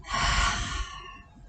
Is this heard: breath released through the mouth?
yes